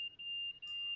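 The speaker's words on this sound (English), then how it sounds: "this alarm will sound whenever the vigilance is turned on or in a normal position." A train cab vigilance alarm in the Train Sim World 5 game sounds as a steady, piercing high-pitched electronic tone held for the full second, alone and fairly quiet, with a faint brief flutter.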